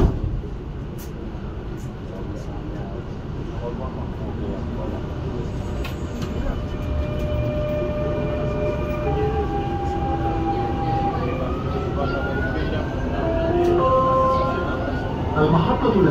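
A Dubai Metro train closes its doors and moves off at a station, a steady rolling hum rising as it gains speed, with rising electric motor whines and a soft chime near the start.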